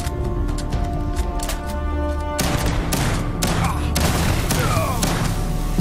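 Rifle fire in the Starfield space game: rapid bursts of loud, sharp shots starting a couple of seconds in and continuing in a steady volley, layered over a humming background tone.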